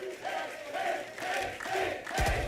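Crowd cheering at a Valorant esports match between LOUD and MIBR: a loud, sustained roar of many voices that swells in waves and rises near the end.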